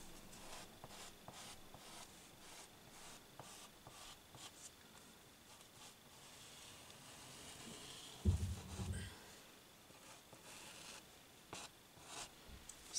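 Drawing a neckline curve on fabric with a marker or chalk, a soft continuous scratching and rubbing at close range with faint rhythmic strokes, one louder thump midway.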